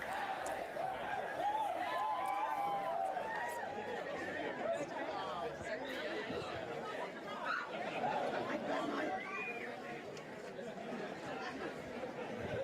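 A crowd fills an election night event while waiting for the Premier, with steady, dense chatter, scattered laughter and raised voices forming a continuous murmur throughout.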